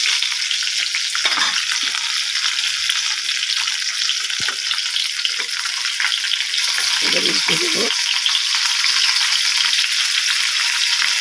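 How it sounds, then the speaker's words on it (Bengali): Rui fish pieces frying in a pan, a loud continuous close sizzle throughout with brief stirring or turning sounds, and a short spoken remark partway through. "মাছগুলো দিয়ে দিলাম, মাছগুলো ভাজা হয়ে গেছে।"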